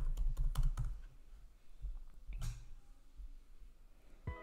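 Typing on a computer keyboard while designing an Instagram carousel post in Canva: a quick burst of close key clicks at first, then scattered quieter taps and a louder click near the end, with no talking.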